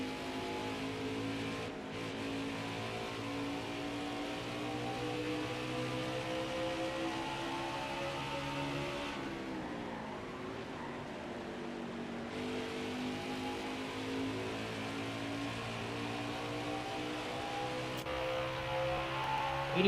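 NASCAR Heat 5 race cars lapping at Phoenix, a continuous droning engine whine with shifting tones as cars pass, steady and moderately loud with no talking.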